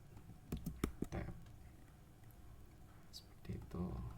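Computer keyboard keys are pressed in a quick cluster of sharp clicks near the start, with a few more taps later, close and light under faint background murmur.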